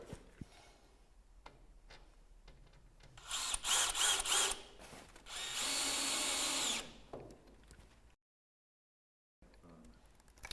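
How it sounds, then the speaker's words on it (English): A power drill drives a screw through a roof window gutter into the roof structure while fitting a Velux top-hung roof window, in short whirring bursts and one longer loud run, with clicks between and a brief silence near the end. "Then just fix in with one of the other screws provided to secure that to the roof structure."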